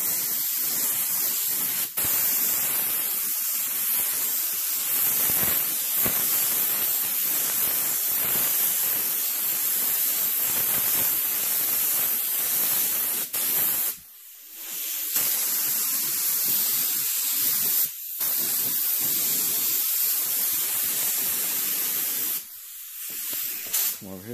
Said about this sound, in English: So I got the primer gun, and we're gonna do a second coat.